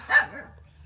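A yellow dog barks once, a single close bark rising quickly and fading within a second, with no talk over it.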